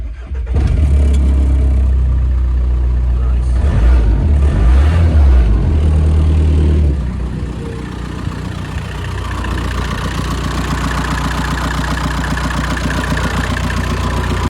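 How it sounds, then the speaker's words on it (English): A VW 1.9 TDI PD130 diesel in a truck cranks with a few uneven turns, fires up loudly, then settles into a steady close-up idle. "gave it a crank, and then it fires up."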